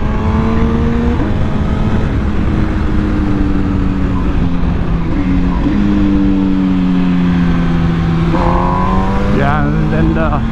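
An MV Agusta Brutale 1000 Serie Oro Limited Edition motorcycle rides along with a steady, loud engine drone. The pitch rises and falls as it eases over driveways, with a voice talking over it.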